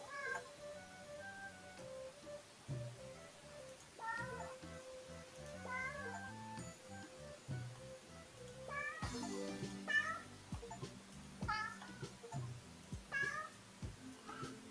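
Cartoon cat meows repeat in a dino-cat hidden-object game, several short mewing calls spaced over steady background game music, clear and moderately loud, with a faint voice at times.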